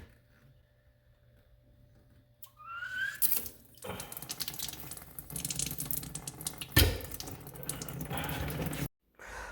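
Residual water draining out of a cut plumbing pipe after the supply has been shut off and drained, a steady running splash that starts partway in, loudens with a brief surge, and stops abruptly near the end.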